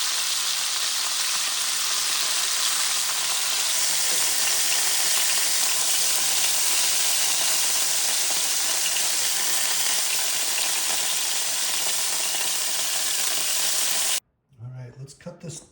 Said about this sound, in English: We're going to make sure we get the sides seared too.